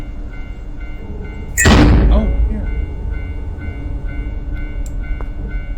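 A train passes on railway tracks in the Tsugunohi horror game: a sudden loud rushing roar swells and fades within about a second, leaving a steady low rumble, with a brief spoken exclamation.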